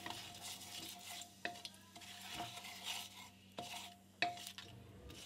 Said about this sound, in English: Now in the same pan, throw in your bay leaf, stir it for 10 seconds.